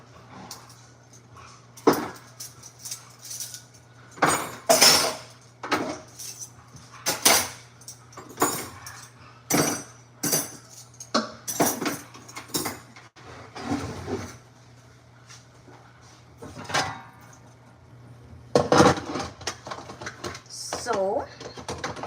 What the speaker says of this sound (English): Gotta put some dishes in the cutlery drawer.